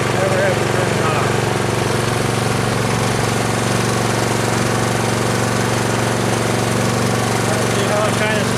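Troy-Bilt Storm 2840 snow blower engine warming up in the cold, a steady loud continuous drone with a rough, pulsing throb throughout, a voice faintly heard under it.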